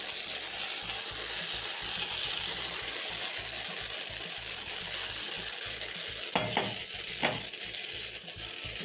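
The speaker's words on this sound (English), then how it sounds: "Stir in the spinach and cook for around a minute" Spinach stirred into simmering matumbo (beef tripe) with coconut, a steady close scraping and stirring over a constant sizzle, with two sharper clinks of a utensil against the pot near the end; no talking.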